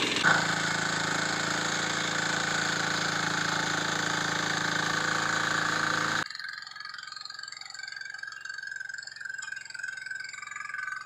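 A power tiller rotavator's small engine drones steadily and loudly for several seconds, then cuts to a quieter, thinner running hum, with no voices.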